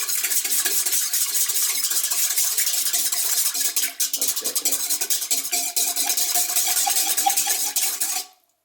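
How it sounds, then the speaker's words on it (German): A spoon stirs yeast, sugar and water in a bowl with continuous scraping and light clinking, steady and close, ending abruptly with no talking. "So, jetzt tun wir ein bisschen umrühren."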